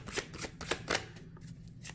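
An Arcanum tarot deck is shuffled by hand, a quick run of soft riffling card flutters in close succession, fairly quiet and with no talking.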